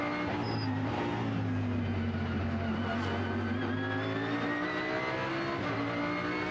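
A GT race car engine on the Beijing circuit accelerates in a loud, steady drone whose pitch climbs smoothly through a gear, close and continuous with no voices.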